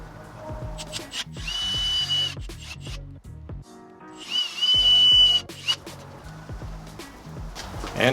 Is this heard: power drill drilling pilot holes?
yes